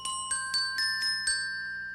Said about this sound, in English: and the glockenspiel